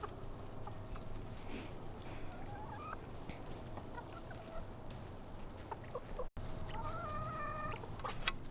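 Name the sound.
chickens clucking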